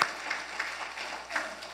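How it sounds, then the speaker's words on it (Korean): A church congregation applauds the choir during a Sunday service at a Korean church in New York: faint, steady, distant clapping that swells slightly a few times and carries no clear speech. "박수 한번 쳐주시죠."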